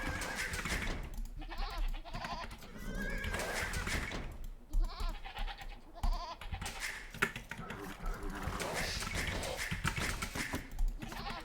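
Sheep bleating in the real-time strategy game Age of Empires, repeated bleats cycling over steady game background sound at moderate volume, with no talk over them.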